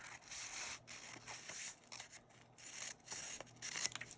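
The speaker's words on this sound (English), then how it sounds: "I'm going to trim bottom margin, this side" Scissors or a paper trimmer trim the bottom margin off a paper strip for journal tags in a series of soft, close swishing cuts at an uneven rhythm, faint and with no voices.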